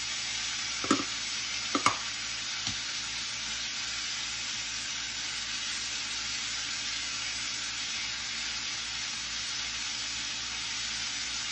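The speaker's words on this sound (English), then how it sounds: "While it's searing on that side, I'm going to season this other side" Beef for a pot roast sears in a pan with a loud, unbroken sizzle throughout, a few knocks early on and no one speaking.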